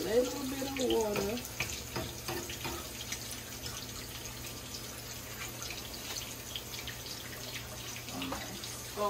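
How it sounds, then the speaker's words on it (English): Tap water runs steadily into a pot on a stove while shrimp cooks, a continuous hiss lasting the whole stretch, with a voice briefly heard near the start. "I'm gonna add a little bit of water."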